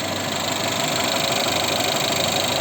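Mercedes-Benz A-Class W176 A160 with a 1.6 petrol engine, engine code 270910, idles with a steady, even hum and a faint ticking texture, recorded up close with no voices.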